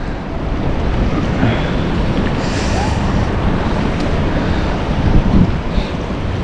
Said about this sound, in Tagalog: Yeah, ang hangin.